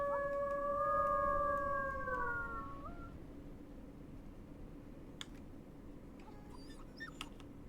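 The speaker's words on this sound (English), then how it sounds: "Just going to do a howl." A gray wolf in the video game WolfQuest lets out a long, smooth howl that holds steady and then slides down and fades, followed by quiet ambience with a few faint distant calls and clicks.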